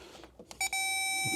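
A steady electronic multimeter continuity beep sounds up close, testing earth on a car's cooling fan wiring, and holds without a break after a few faint clicks and rustles.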